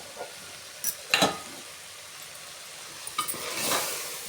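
Biryani rice with vegetables is stirred with a ladle in a hot frying pot, giving faint scraping and soft sizzling with a few short louder stirs, then a rising hiss near the end.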